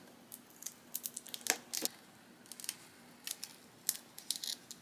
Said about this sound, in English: I find the best way to cut this is with a rotary cutter